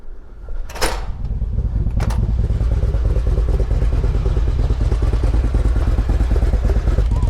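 A Suzuki M109R motorcycle engine cranks with a brief clatter, catches and settles into a loud, steady, throbbing idle nearby, with no talking over it.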